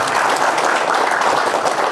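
An audience claps in a dense, steady burst, loud and close, with no voices rising above the applause.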